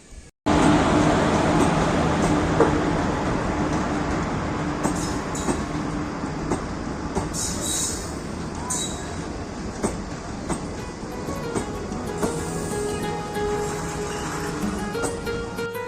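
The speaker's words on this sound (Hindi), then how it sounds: "ये देख सकते हैं आप, यहाँ पे बहुत सारी ट्रेन है।" Trains run on railway tracks in India, making a loud, continuous rumble with rattling clatter and occasional metallic squeals and clicks, sustained and close throughout.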